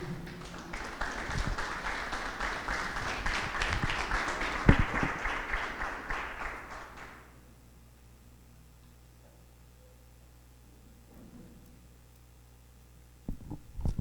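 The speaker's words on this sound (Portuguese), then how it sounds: "dê um aplauso ao Senhor." A church congregation applauds together, loud, dense clapping that swells and holds for about seven seconds before stopping abruptly into quiet room tone, with a brief burst of noise at the very end.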